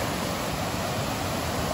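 Waterfall on a trail, a steady dense roar of falling water with no breaks, filling the whole short stretch.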